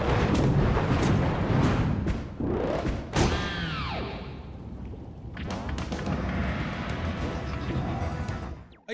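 Secret Bullet Bills firing in Super Mario Bros. Wonder, heavy booming blasts and rumbling impacts over busy game music, with sweeping whistles and swirling effects between.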